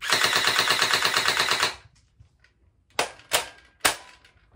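Gel blaster pistol shooting Orbeez gel balls, first a rapid burst of sharp snapping shots lasting under two seconds, then after a quiet gap three separate single pops, near and crisp.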